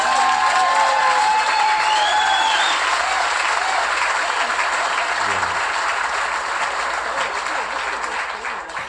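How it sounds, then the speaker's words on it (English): Audience applause at a live talk show recording, a steady wash of clapping from a crowd that carries loud from the start and slowly thins toward the end. "hey, that deserves a round of applause"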